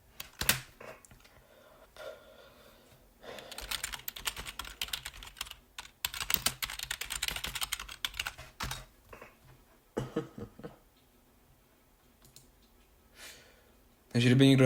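Fingers type on an English-layout computer keyboard in uneven bursts of rapid clicking, with short quiet gaps between them and a louder clatter near the end.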